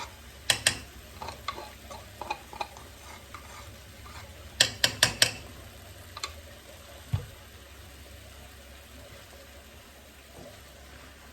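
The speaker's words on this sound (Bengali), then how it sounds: "ভালো করে নাড়বেন যেন মশলাগুলো সবগুলোর সাথে মিশে" Apple pickle with green chilli and mustard paste is stirred with a spoon against a pan, giving sharp scattered clinks and scrapes, some in quick clusters, over a faint background, close and alone.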